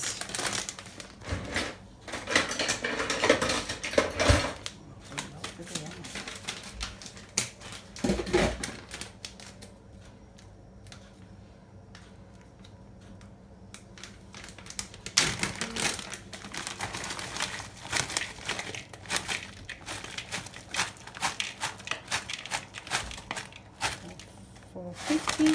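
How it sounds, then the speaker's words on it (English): Raspberries being bashed in a bowl to break up clumps, producing dense crushing, squelching and tapping noises up close, easing off to a quieter stretch midway before the rough pounding resumes. "So I don't like the big clumps of raspberries, so usually I bash it a bit."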